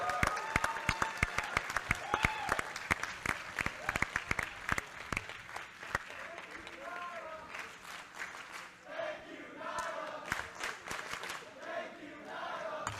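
Wrestling crowd applauding Nyla Rose at a GO Pro Wrestling event, loud sustained clapping with scattered cheers and shouts, dense at first and then thinning into a softer, rolling crowd roar.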